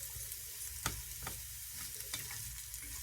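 Onions sweating in a hot pan give a soft, steady sizzle, with a few sharper stirring scrapes breaking through. No one speaks over it.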